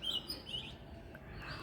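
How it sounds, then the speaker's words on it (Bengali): A single bird sings from near a rooftop in the late afternoon, a few faint, brief chirps over a quiet background with no talk. "দেখো এখানে একটা পাখি ডাকছে"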